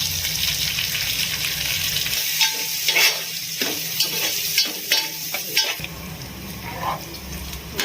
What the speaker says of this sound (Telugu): కట్ చేసుకున్న ఆనియన్ పచ్చిమిర్చి కరివేపాకు వేసి మంచిగా ఫ్రై చేసుకోవాలి